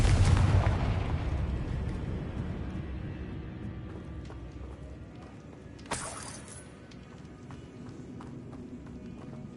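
The Confringo fire spell from Hogwarts Legacy goes off as a sharp, bright blast a little past midway, rising over a rumbling, busy game soundscape and then fading quickly.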